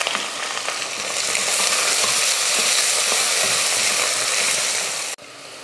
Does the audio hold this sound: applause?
no